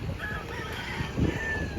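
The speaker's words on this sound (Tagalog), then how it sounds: "Maraming manok-manok." Chickens cluck and a rooster's crow rises faintly over a steady outdoor background in a residential subdivision, brief and moderately distant.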